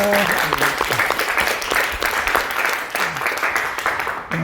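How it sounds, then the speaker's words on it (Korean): A church congregation claps and applauds steadily and loudly during a Sunday service for several seconds, a dense patter of many hands filling the room. "하나님께 영광의 박수를 드립니다."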